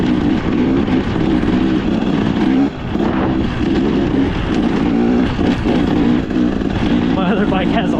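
A KTM XCW 300 two-stroke dirt bike engine drones loudly and steadily with rising and falling revs through the whole stretch, a brief dip near the middle, while a rider talks over it.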